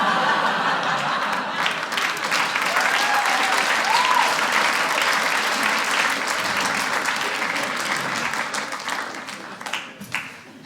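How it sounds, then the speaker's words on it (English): Sustained audience applause fills a comedy club after a stand-up joke, dense and steady, with scattered chuckles mixed in, then thinning out near the end. "2 applause breaks in a row."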